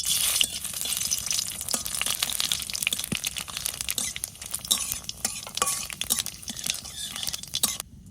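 Cumin, bay leaf and dried chili frying in hot oil in a village kitchen, a steady close crackling sizzle with intermittent stirring clinks and scrapes throughout.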